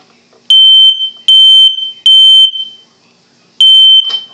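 A household smoke detector under test lets out four loud, piercing beeping bursts, each about half a second long, with short gaps between them. The last burst comes after a longer pause, and no voices are heard.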